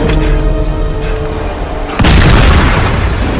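A bomb detonates in an action film sniper scene, a sudden loud boom that bursts in midway over an already busy, rumbling soundtrack and leaves a dense, roaring wash of debris noise.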